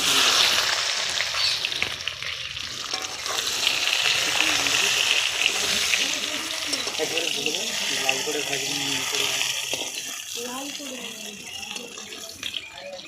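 Eggplant pieces frying in oil for a Bengali rui fish curry with potato, a steady broadband hiss and sizzle throughout, fairly close, with faint speech-like sounds and clatter in the background.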